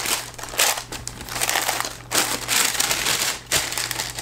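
Black tissue paper crinkles and rustles in bursts as a box of Air Jordan 5 sneakers is unwrapped, the loud, close crackling coming in several uneven waves with short pauses.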